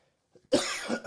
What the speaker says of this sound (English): Apologies, guys, for the cough.